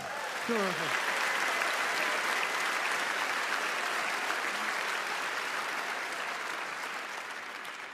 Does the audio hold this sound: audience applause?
yes